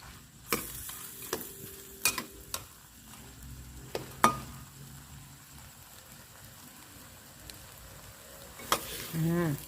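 Onion stir-fried with shrimp and squid in a hot pan, a steady low sizzle with sharp scraping stirs and clanks scattered throughout, and a brief voice near the end.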